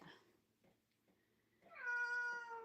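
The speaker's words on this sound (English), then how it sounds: "can you hear my cat meowing?" A cat gives a long, drawn-out meow that rises and holds, fairly close, after a few quiet moments of faint background sounds.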